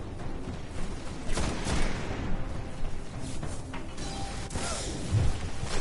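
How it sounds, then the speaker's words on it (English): Gunfire and explosions in the video game Destiny, dense overlapping shots and blasts crackling from several directions, loud and continuous with mechanical clatter and whooshes, no voices. "I'm getting shot at from three different directions"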